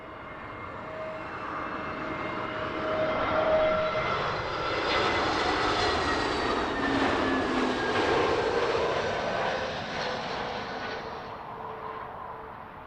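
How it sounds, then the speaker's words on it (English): An Iberia Airbus A320neo arriving from Madrid on approach to Heathrow, its jet engines swelling from a distant whine to a loud, broad roar overhead before fading, with no talk. "Iberian Neo was inbound from Madrid."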